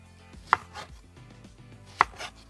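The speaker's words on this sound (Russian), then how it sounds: "для начала нарежем картофель" A knife chops potatoes into large wedges on a board, two sharp close thuds about a second and a half apart with soft handling sounds between.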